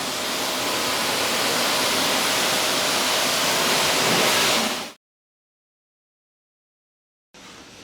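A steady, loud rush of spraying water washes a Toyota Supra GR for its first wash. The spray stops abruptly into silence and then starts again briefly.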